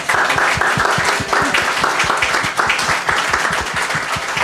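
Luncheon guests give a round of applause, a fairly close, dense burst of many hands clapping in a brisk, uneven rhythm that holds steady for several seconds.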